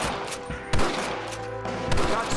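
Gunfire rings out in a Red Dead Redemption shootout, several sharp shots cracking in quick succession over a steady background of game ambience.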